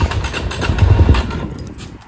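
A Suzuki DRZ400SM motorcycle engine turns over and rumbles briefly up close, a low, rough burst that fades out within two seconds.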